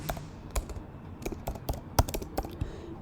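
Email address being typed on a computer keyboard: irregular, quick clicking keystrokes with a few heavier taps, close and clear against a quiet background, with no talking.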